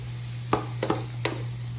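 Beef being added to a hot pan for a Thai herb and coconut milk dish, a steady sizzle broken by three or four short clinks and scrapes of a utensil, with a constant low hum beneath.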